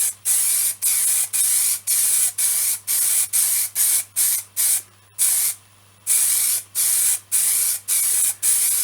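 Aerosol can spraying light coats of black base paint over a wooden off-centre turned bowl, heard as a run of about fifteen short, loud, even hissing bursts with brief gaps and one longer pause.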